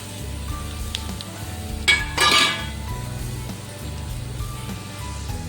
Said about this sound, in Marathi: कढईमध्ये तूप टाकायचं आहे आणि खोबरं मी भाजून घेणार आहे